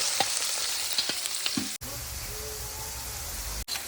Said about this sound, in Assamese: এবাৰ বিন দি দিলোঁ বিন ফ্ৰাই